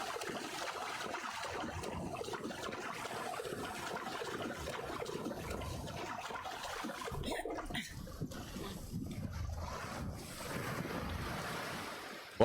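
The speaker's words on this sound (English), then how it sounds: "It's just the waves are coming in." Ocean waves in Assassin's Creed Odyssey wash steadily around a small boat, a continuous broad rush of surf and wind that carries on alone with no talk throughout.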